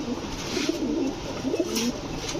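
Orange chila pigeons, including a hen, coo in soft repeated calls close by, with a little rustling and background hiss.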